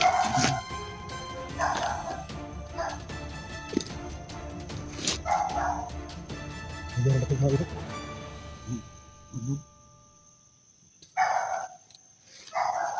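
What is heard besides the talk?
stray dogs barking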